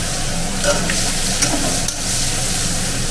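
Onion and bay leaf fry in a pan for a fig and hilsa fish head curry, giving a steady, close, loud sizzle with occasional stirring scrapes and no voices.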